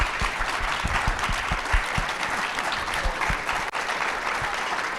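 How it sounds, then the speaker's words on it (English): A large audience at an underground event breaks into steady, loud applause, with dense clapping sustained throughout and no voices over it. "So would everybody sincerely jump up, give them a hand, give them a round of applause."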